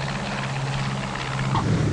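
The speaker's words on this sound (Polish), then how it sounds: "Ląduje dwumotorowy samolot typu Heinkel 111." A twin-engine Heinkel 111 aircraft lands, giving a loud, continuous engine drone with a strong low hum that rises slightly toward the end, with no talk.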